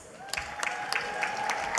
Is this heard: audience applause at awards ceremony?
yes